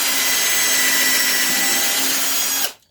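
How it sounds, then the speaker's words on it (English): Power drill boring a small pilot hole for a DIY float frame, a loud, steady whining motor that runs continuously for a few seconds and then quickly winds down to silence. "I really shouldn't talk at the same time as I'm drilling."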